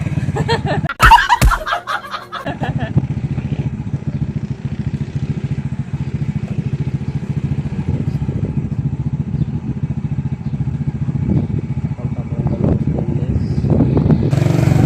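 A motorcycle engine being warmed up at idle before a ride to the market, holding a steady low rumble for over ten seconds after a short burst of laughter and clatter at the start.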